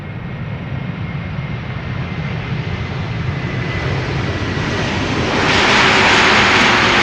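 An 11-year-old Airbus A332 freighter jet roars past on arrival at Amsterdam Schiphol, a loud broad engine rumble building steadily and swelling into a harsher, brighter roar near the end.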